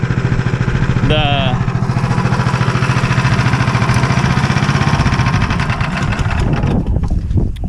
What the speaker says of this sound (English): Cutting through 11 inches of white oak is pretty tough